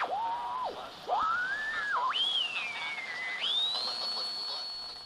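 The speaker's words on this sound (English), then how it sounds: "That whistle you hear is the beat frequency" AM radio picking up a beat-frequency whistle from a homebuilt radio frequency oscillator, a clear pure tone that glides and jumps in pitch as tuning changes, rising overall and settling on a steady high note.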